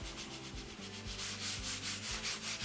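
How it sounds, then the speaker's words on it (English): Steady back-and-forth rubbing on a concrete bar top made over an old house railing, working out scratch marks in a close, continuous rhythmic scrape like sanding, with no talk. "You can also rub those out as well."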